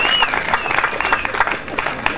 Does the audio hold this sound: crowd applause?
yes